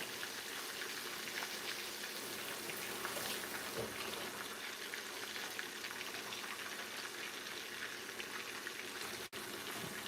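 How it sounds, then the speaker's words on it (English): Hands rinsed under a running kitchen tap, a steady broadband hiss of water flowing continuously at moderate distance, with a brief clunk near the end. "I'm going to give my hand a wash"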